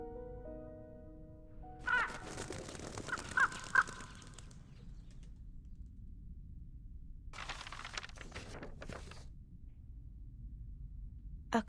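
A crow in the video game Reverse: 1999 gives a few harsh caws near the start, then a louder rasping burst later, over a faint low ambient hum.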